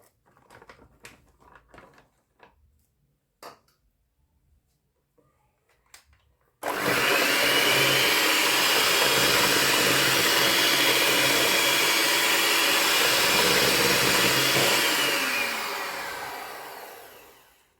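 Wet cupcake batter ingredients being mixed: after faint scattered knocks, a loud steady motorized whir starts abruptly, holds for about ten seconds, then tapers off.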